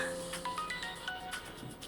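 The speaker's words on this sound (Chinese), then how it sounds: "我敢保证，你电话马上会响。" A mobile phone ringtone plays alone, a short melodic sequence of bright electronic tones repeating at a moderate level.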